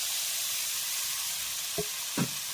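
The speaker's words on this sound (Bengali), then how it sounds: "কষিয়ে নেওয়ার পর আগে থেকে ভেজে রাখা চিংড়ি মাছ কাঁকরোল আলু আমি এর মধ্যে দিয়ে দিচ্ছি" Fried prawns, pointed gourd and potato pieces go into a hot pan of masala, giving a steady broadband sizzle with two brief soft drops or stirs near the end, no voices present.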